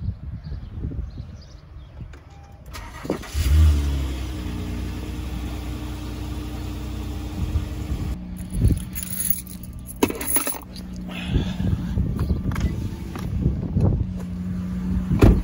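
A 2013 Honda Accord V6 with a muffler delete starts and idles close by, its engine settling into a steady rumble with a few short blips of revving over windy outdoor noise, no talk.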